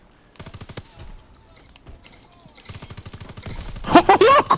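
An Orso submachine gun in Call of Duty WW2 fires rapid bursts of shots, with quick, evenly spaced reports and a louder cluster near the end, under excited talk.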